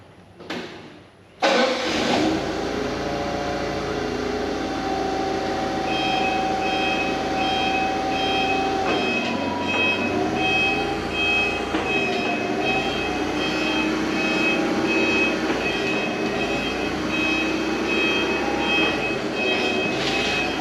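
A vehicle backs straight out with a steady, repeating reversing beep over a running engine, after a brief thump at the start; the beeping continues evenly to the end.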